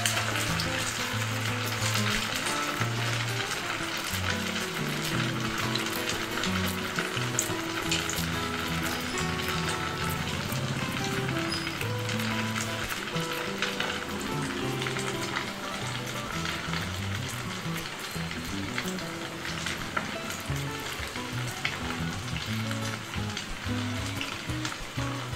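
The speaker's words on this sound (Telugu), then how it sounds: "ఇలా వేసిన గారెల్ని ఇలా తిప్పుకుంటూ కాల్చుకోవాలండి" Leftover-rice garelu fritters frying in hot oil, a steady, dense sizzle and crackle that holds loud and unbroken throughout, with faint low bubbling underneath and no voices.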